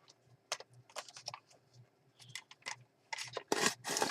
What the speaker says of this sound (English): I'll use my paper trimmer to trim this piece off